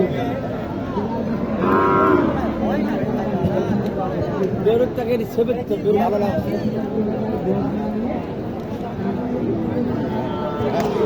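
Sahiwal bulls lowing at a busy cattle market in Matajihat, Naogaon, with one loud moo standing out early, set against constant crowd chatter and nearby voices talking throughout.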